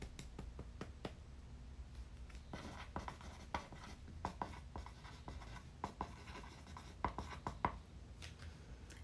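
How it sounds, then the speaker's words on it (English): A pen writes on paper by hand, giving soft, close scratching strokes with small taps and pauses between words in an otherwise quiet room. "Or you can write with me as I write them down."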